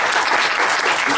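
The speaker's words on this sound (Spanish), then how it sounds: "quiero darle un gran aplauso de parte de ustedes a Roberto Coria" An audience at a masterclass applauds a speaker, a dense burst of many hands clapping together, loud and sustained throughout the short moment.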